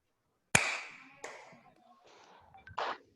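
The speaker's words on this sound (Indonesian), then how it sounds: "Bisa tepuk tangan kan semua?" Single sharp handclaps from Zoom meeting participants ring out one after another with gaps between them, the first loudest and the later ones softer and slightly ragged.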